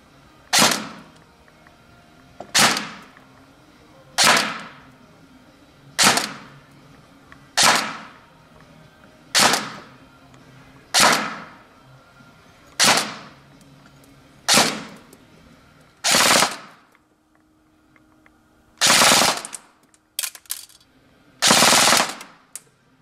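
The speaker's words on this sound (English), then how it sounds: "We're going to head over to the chrono range, and we can see how this gun shoots with an 11-1." An ICS PAR MK3 full-metal airsoft AEG fires on a chrono range: loud, evenly spaced bursts repeat about every second and a half, then a few quicker bursts close together near the end.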